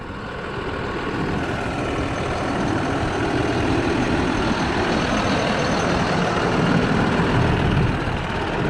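McCormick MTX 135 tractor pulling a mole plough through soil, a steady loud engine drone with deep rumble that holds constant throughout, close by with no speech.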